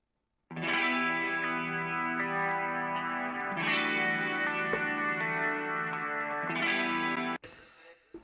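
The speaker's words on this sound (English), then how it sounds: "so the clean guitars sound like this." Layered electric guitars ring out with a shimmering, chorus-like clean tone, sustained chords holding steadily for several seconds before cutting off abruptly.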